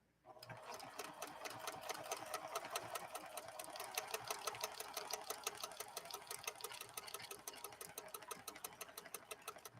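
A PFAFF 7530 sewing machine starts up and stitches steadily, its needle clattering in a fast, even rhythm that holds at a constant close, moderate loudness for the whole stretch.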